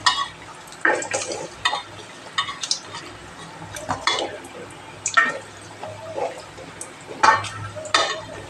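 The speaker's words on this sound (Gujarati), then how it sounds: "હવે આપણે તેલ મૂકી દીધું છે, આપણે ધીમા ગેસે ફ્રાય કરી લઈશું।" Besan and semolina biscuits fry in oil over a low flame with a soft, bubbling sizzle, broken by repeated close clinks of a utensil against the pan, with no talking.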